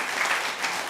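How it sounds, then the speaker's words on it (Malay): Audience applause at a university professorial inaugural lecture: a short burst of dense, steady clapping from a seated crowd. "kita berikan tepukan kepada warga-warga kita"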